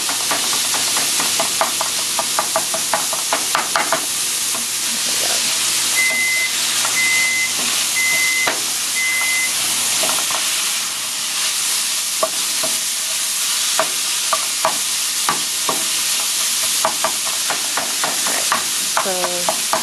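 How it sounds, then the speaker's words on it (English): Ground pork sizzles loudly in a hot pan while a spatula scrapes and breaks it apart, irregular stirring knocks over a constant frying hiss, close and without voices. "kind of use your spatula, whatever you're cooking it with, and break the meat apart, like small pieces."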